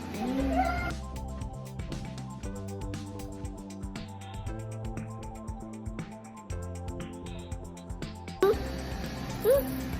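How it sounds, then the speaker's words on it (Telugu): A chicken clucks briefly at the start and again near the end, faint against a steady tonal musical background that fills the middle. "కోడి."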